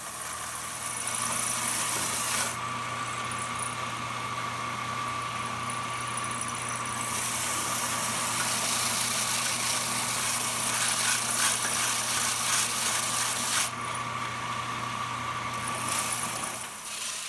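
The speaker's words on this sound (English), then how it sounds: "I'm using my belt sander to sand the sides of the neck so that it matches the width of the fretboard." Belt sander grinding the sides of a seven-string multiscale guitar neck down to the fretboard width, a loud continuous motor drone with abrasive hiss that swells and drops as the wood is pressed on and lifted off.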